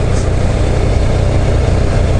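Suzuki SW-1 motorcycle engine running steadily during a Izu touring ride, a continuous loud low rumble with wind noise and no talking.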